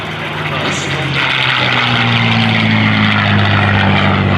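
Loud, steady drone of a twin-engine warbird's propeller engines close by at an airshow, a rough humming roar that builds slightly as the plane passes.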